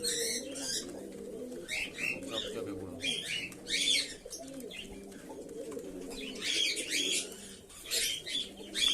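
Pigeons, including white pigeons, coo in low, soft murmurs, with brighter chirps and a little wing flutter nearby; a person speaks briefly partway through.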